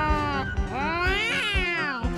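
Cartoon cats let out loud, drawn-out wavering meows and caterwauls, several overlapping calls rising and falling in quick succession.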